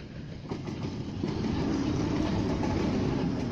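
Passenger train running on rails, a steady, close rumble with faint rhythmic clatter building slightly and holding constant throughout.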